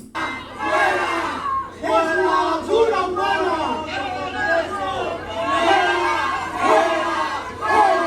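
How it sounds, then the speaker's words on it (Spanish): A crowd at the Congress chanting and shouting in rhythmic waves, loud and sustained, with repeated rising calls over a murmuring mass of voices. "escucha a la gente gritando fuera Polo Polo"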